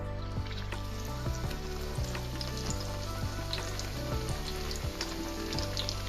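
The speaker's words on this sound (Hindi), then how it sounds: "इसको इसी तरह से ऑयल में ऐड कर देंगे। ऑयल को फुल गर्म होना चाहिए" Stuffed besan and potato naan fries in fully heated oil in a pan, giving a continuous close sizzle and crackle with scattered pops, over a faint tonal background hum.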